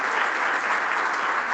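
An audience at a security conference applauds a speaker, a dense, steady wash of clapping that runs the whole time at even loudness, with no voices over it.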